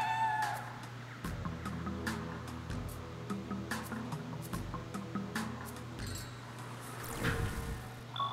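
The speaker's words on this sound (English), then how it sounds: "These three cat demons all together, the Magasui skill Feline Fury" Several cat demons unleash a Feline Fury attack in Shin Megami Tensei V, with layered meowing and yowling cries over game music and effects, fairly clear and steady throughout.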